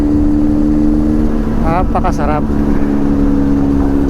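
Big bike motorcycle engine cruising on the NLEX expressway toward Clark, Pampanga, a loud continuous drone with rushing wind noise, while the rider speaks briefly over it.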